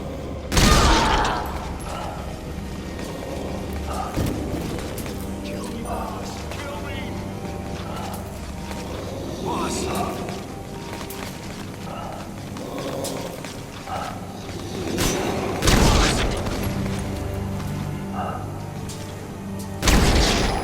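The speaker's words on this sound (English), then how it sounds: "Shooting your own men." Soldiers fire guns in the Metal Gear Solid V: The Phantom Pain video game, with sharp, loud shots at the start, near the end and in between, over a rumbling game soundscape and spoken dialogue.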